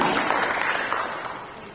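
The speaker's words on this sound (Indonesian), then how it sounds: "Mari kita berikan tepuk tangan yang meriah kepada Bapak Aditya Jaya Antara" Dense, steady applause from an audience at a stock exchange event, honouring Bapak Aditya Jaya Antara. The clapping is moderately loud and gradually fades toward the end.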